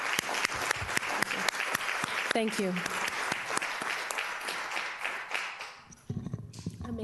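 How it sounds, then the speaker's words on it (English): An audience at a school board meeting applauds the schools with sustained, dense clapping at moderate distance, and a voice briefly speaks over it near the end. "another big round of applause for all of the schools and all of their work"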